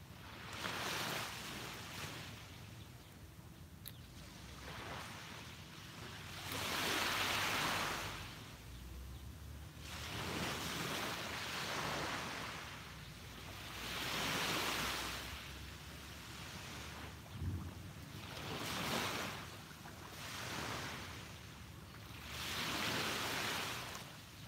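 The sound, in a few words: calm ocean waves on a beach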